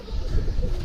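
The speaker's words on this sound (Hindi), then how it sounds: "ये कबूतर ऊपर है दोस्तों।" Low, soft pigeon cooing murmurs through steady background rumble, a muffled warbling coo close by.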